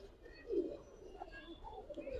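A moulting red dobaj pigeon pair coos softly nearby, a few low throaty calls over a quiet background.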